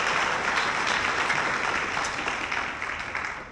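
Concert audience applauding a guest ensemble, dense steady clapping that fills the room and tapers slightly toward the end, with no voices.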